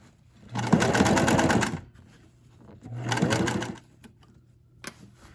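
A sewing machine stitches a cinch bag in two sustained whirring bursts of about a second and a half each, separated by a quiet pause, with a short click near the end.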